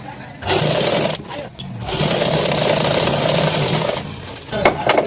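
A sewing machine stitches along the edge of a school coat jacket, running loud and close in long whirring bursts broken by brief pauses.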